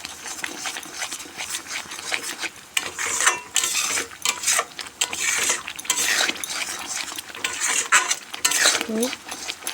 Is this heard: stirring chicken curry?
yes